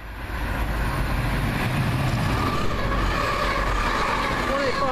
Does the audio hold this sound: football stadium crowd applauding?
no